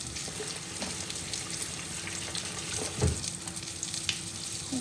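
Hush puppy balls frying in oil give a soft continuous bubbling sizzle at moderate distance, with a dull thump partway through and no voices.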